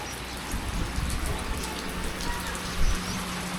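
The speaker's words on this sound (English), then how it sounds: "It's starting raining again." Steady typhoon rain falls, a dense continuous patter on surfaces, with a brief low thump near the end.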